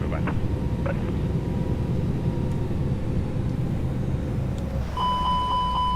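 Warning chime in the cockpit of a Toliss A321neo airliner in X-Plane 12 with the parking brake set: a short run of repeated clear tones near the end, over a steady loud cabin and engine hum.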